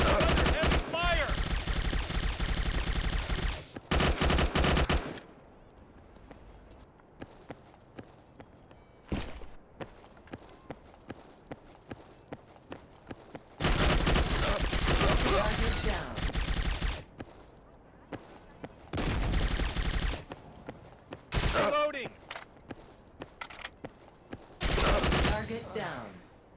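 Heavy automatic gunfire erupts in the Android first-person shooter Strike Team Online, loud sustained bursts broken by quieter stretches of footsteps and scattered single shots.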